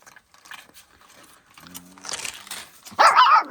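A fierce white female dog gives a loud, harsh burst of barking and snarling near the end, after quieter scuffling and faint sounds.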